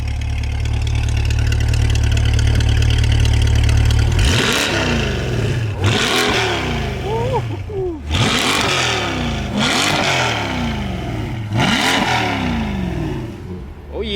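A car at a car meet idles with a steady low rumble, then blips its throttle in four sharp revs, each climbing and falling back, loud and close.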